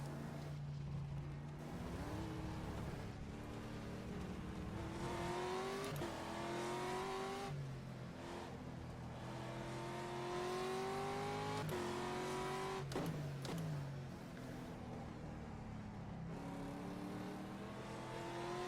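Nissan GT-R GT1 race car engine in rFactor 2 on the Portugal GP circuit, revving up and down through repeated gear changes with rising and falling pitch sweeps, heard alone without talk.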